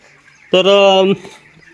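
A single loud, drawn-out squawk from a chicken, close and brief, followed by quiet.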